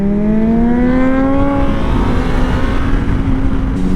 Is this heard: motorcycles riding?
yes